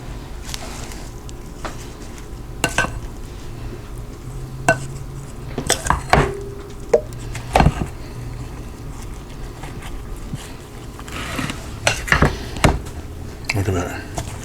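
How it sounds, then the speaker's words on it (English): A spoon gently folds a sour cream, vinegar and sugar dressing into sliced cucumber salad in a small bowl, making soft scrapes and occasional knocks against the bowl at close range, with a voice heard at times. "we're going to gently fold in this mixture of sour cream, vinegar, sugar"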